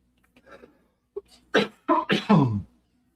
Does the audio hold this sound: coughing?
yes